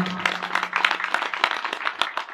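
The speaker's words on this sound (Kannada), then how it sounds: "ಒಂದ್ಸಲಿ ಜೋರಾಗಿ ಚಪ್ಪಾಳೆ ಹಾಕಿ" An audience at a religious gathering claps loudly, a dense, steady patter of many hands that keeps going across the whole stretch.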